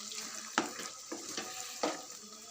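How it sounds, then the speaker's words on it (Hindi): Chana dal being mixed in a pot for a dhaba-style dal fry, a wet sizzling hiss broken by three distinct scraping stirs of the spoon, close and alone. "अच्छे से मिक्स कर लेंगे इसको।"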